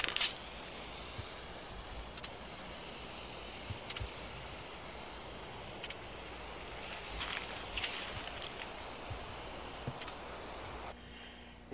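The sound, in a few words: spraying a quick coat of clear enamel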